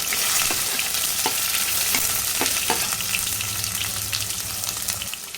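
Chopped onion frying in hot oil with curry leaves for mushroom masala, a continuous close sizzle broken by sharp spatula taps and stirs, no talk.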